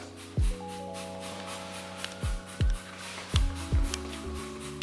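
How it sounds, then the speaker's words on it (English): Several short spray bursts of wallpaper paste remover gel hit a wall, arriving in an uneven series of quick puffs over a few seconds, close and fairly loud with brief pauses between them. "So I just spray a little bit more on there"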